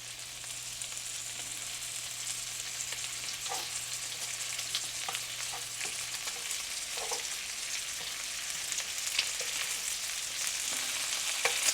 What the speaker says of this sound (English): we can start turning some bacon